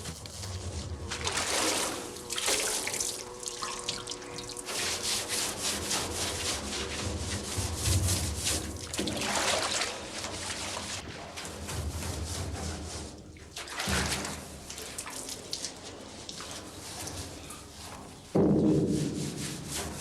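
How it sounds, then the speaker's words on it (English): A cooking kettle for boiling fruit into syrup is scrubbed with water and a brush: repeated rough rubbing strokes in uneven bursts, close and fairly quiet, with wet splashes and occasional knocks. "The kettle is cleaned with water and a brush."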